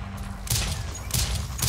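Gunfire in the Rise & Shine video game: three sharp, bright shots spaced about half a second apart over a low steady background hum, loud and close, with no voices.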